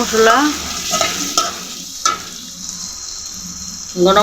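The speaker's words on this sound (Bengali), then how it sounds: "মশলা, পেঁয়াজ, তেজপাতা সব কিছু দিয়ে দিলাম। মানে যদি একটু ভালো করে ভেজে নিতে হবে।" Onion, spices and bay leaf fry loudly in hot oil for an egg and potato curry, with a close, continuous sizzle and scraping stirs throughout. A voice talks briefly at the start and again near the end.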